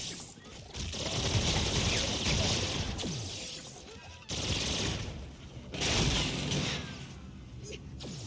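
Gunfire in Infinite Warfare during a two-player boss fight, rapid automatic bursts in long sustained stretches with short breaks, fairly loud, with players talking over it.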